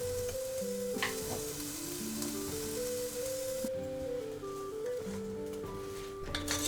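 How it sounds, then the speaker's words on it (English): Onions and mushrooms with sugar fry steadily in butter in a pot over medium heat, a continuous close sizzle with a soft low musical tone running underneath throughout. "Cook the onions and mushrooms for about 10 to 15 minutes on medium heat"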